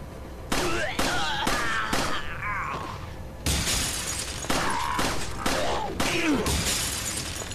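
Pistol shots ring out in Resident Evil 4, roughly eight or nine sharp, loud cracks fired in uneven bursts, each with a brief ringing tail over a low game backdrop, with a short quieter gap partway through.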